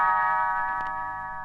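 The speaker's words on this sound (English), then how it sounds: "You will know it is time to turn the page when Tinker Bell rings her little bells like this." Small bells chime together in a bright, ringing cluster that decays gently over about a second and a half, close and clear with no talk.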